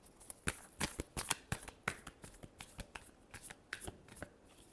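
Tarot cards being shuffled by hand, a quick run of crisp riffling slaps and flutters at close range with no voices.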